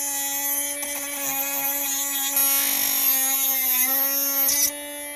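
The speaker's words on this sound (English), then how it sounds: "Let's cut this fuel tank screw shorter" A small tool cutting down a fuel tank screw from a vintage Hobao OFNA Dominator nitro 4WD monster truck, a close, steady high whine with a harsh grinding edge that rises partway through and stops suddenly.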